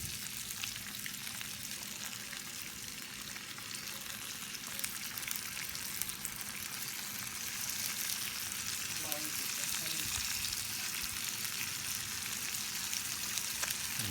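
Cajun-seasoned fish fries in a pan over a folding firebox outdoors, a continuous, dense crackling sizzle that holds steady from start to finish, fairly close.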